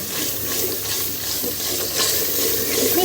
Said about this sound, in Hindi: अब मैं इसमें टीनियाँ थोड़ा सा भून के इसको, फिर इसमें टीनी शामिल करूँगी